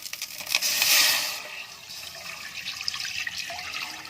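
Raw milk pouring into a pot for homemade matka malai kulfi, a steady liquid stream that swells loud and close early on, then settles into a softer trickle.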